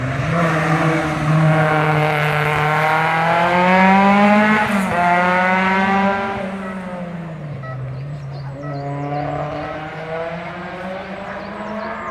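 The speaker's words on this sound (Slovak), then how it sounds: "František Grüner na BMW E30, startovný číslo 170" BMW E30 rally car at a race, engine screaming loud and close as it accelerates through the gears, pitch climbing in waves, then fading and shifting as it passes and pulls away.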